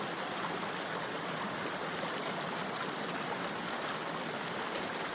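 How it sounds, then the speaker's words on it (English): Water pumped through a filtration system pouring into a water bottle, a steady, dense hiss and rush of flowing water, close and constant with no voices. "We're starting to fill our water bottle, and our water bottle right now is filling at a rate of about, an inch every 3 seconds."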